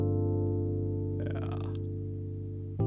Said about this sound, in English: If I just play keys and bass, it sounds like this.